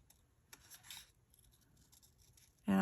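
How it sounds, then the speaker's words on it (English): Scissors snip paper as it is turned around its outside edge, giving quiet, close scratchy cuts in short uneven bursts, then a sudden loud thump at the very end. "And I'm just cutting out around the outside edge"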